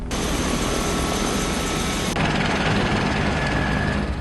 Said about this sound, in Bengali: এভাবে হেলিকপ্টার দিয়ে উদ্ধার করা হয়েছিল সেখানকার বাসিন্দাদের